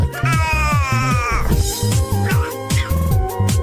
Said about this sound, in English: Meowing for food, whining for food